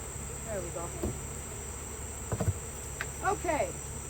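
Honeybees buzz in a steady hum during a honey harvest as frames are worked, with chirping insects, a few knocks and brief voices close by.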